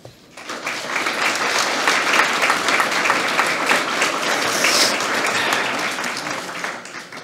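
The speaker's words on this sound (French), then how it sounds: "Ce qu'ils font est remarquable et on peut les applaudir." Sustained applause from the audience at a New Year's greetings ceremony in Cocumont, a dense, steady clapping that starts abruptly and holds at an even, loud level throughout.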